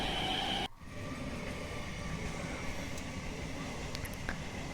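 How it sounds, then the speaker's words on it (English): An Indian Railways local passenger train passes an open level crossing gate, heard as a steady rushing rumble of rolling wagons that cuts sharply after a moment and then continues as a broad, moderately distant roar. "Again it is crossing one more train"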